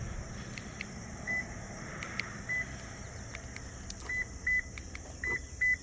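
A Toyota Tundra sounds a series of short, sharp lock and unlock beeps, spaced irregularly at first and then in quick pairs, over a steady rumble of outdoor background noise from passing vehicles.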